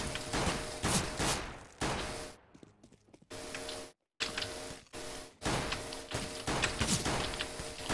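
Gunfire in the video game Counter-Strike: Global Offensive, heard as rapid, loud, crackling bursts of shots broken by a few brief pauses, with mechanical clicks and clatter in between.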